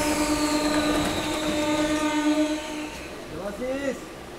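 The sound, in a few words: MEMU train departing Salboni station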